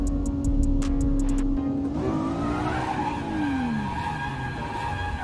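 Tires squealing as a car drifts and spins out in a racing video game, a loud sustained screech that slides downward in pitch over the engine drone, with no talking.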